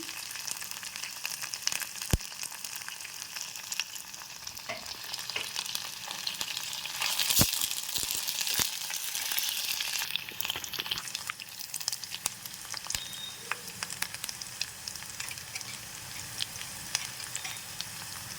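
Green chillies and curry leaves frying in a pan for goruchikkudu (cluster bean) curry, a steady close sizzle with occasional sharp crackles and pops running throughout, no talking.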